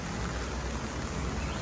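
Heavy rain pours steadily at Aviary Park Bintaro, a dense, continuous wash of noise close around the mic with no breaks and no voices.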